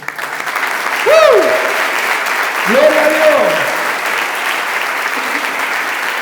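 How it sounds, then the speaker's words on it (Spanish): Congregation applause during a Spanish-language evangelical church service, a sustained broadband clatter of many hands filling the room while a preacher shouts over it twice. "¿Cuánto le dan un aplauso al Señor?"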